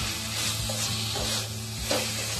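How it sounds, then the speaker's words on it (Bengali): Fried potatoes sizzling in spicy masala in a pan for a Bengali-style crab curry, a soft steady crackle with occasional stirring scrapes. "একটু আলুটা মশলার সঙ্গে ভেজে নেব।"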